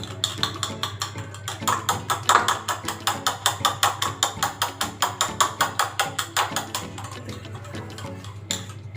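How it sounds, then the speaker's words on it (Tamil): Eggs beaten with salt for a bread omelette, a whisk or fork striking the bowl in a fast, steady run of sharp, loud clicks and taps at close range, with no talking. "உப்பு போட்டு நல்லா பீட் பண்ணி வச்சுக்கோங்க."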